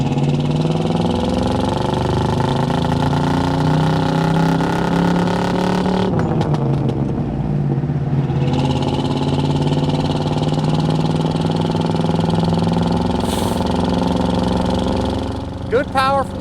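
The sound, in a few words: 1984 Chevrolet K10 truck driving, 5.7 TBI engine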